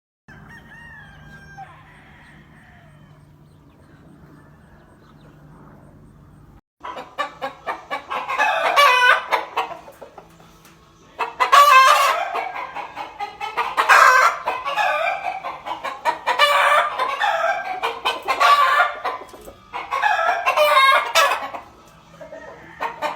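Gray stag roosters and chickens on an Oklahoma farm, including a Kearney cock, crow and cluck loudly and close by in several repeated bursts after a quiet opening with faint low hum, with no voices.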